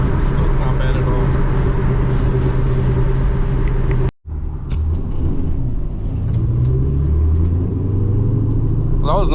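A straight-piped 2003 Ford Mustang GT drives along a road, its engine giving a deep, loud, continuous rumble heard from inside. There is a short gap partway through, and the rumble returns with shifting pitch as the car cruises.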